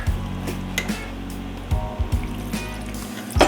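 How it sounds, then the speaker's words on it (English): Small amounts of water trickle into a pan of picadillo, a soft filling sound against a steady low background hum, with brief clinks between pours. "Now we're going to add some water to it."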